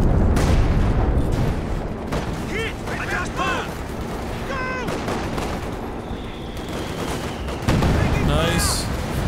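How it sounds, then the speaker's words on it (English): Mortar fire and other battlefield explosions rumble through a dense Company of Heroes 2 battle mix, with booms and crackles layered under game voice lines throughout. "Mortar's doing work."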